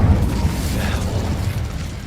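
The Incendio fire spell is cast in Hogwarts Legacy, giving a loud, continuous roaring whoosh of flame with a heavy low-end rumble that holds steady throughout.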